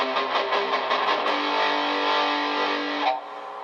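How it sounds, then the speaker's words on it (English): A guitar rings through a distortion pedal, strummed rapidly at first, then held as a fuzzy, saturated chord that cuts off near the end, leaving faint hum. "So if we go and kick on our distortion pedal here,"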